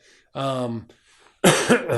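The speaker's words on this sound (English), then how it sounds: "Excuse me, last of this damn cough" A throaty cough bursts out twice, loud and close, after a short spell of vocal sound; no clear speech follows within the moment.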